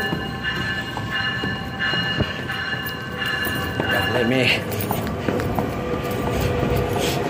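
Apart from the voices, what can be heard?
Metra commuter train pulling into Homewood station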